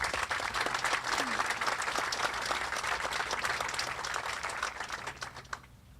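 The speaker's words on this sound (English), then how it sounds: "Please join me in a round of applause" Applause at a US Army Pacific change of responsibility ceremony for an incoming Command Sergeant Major, a dense burst of many hands clapping that holds strong and then tapers off near the end.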